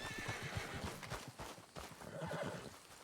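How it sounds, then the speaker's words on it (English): A horse in Red Dead Redemption 2 neighs over the game's busy ambience, with hoof clip-clops and other game noise mixed in at moderate, fairly faint volume. "Where's my horse?"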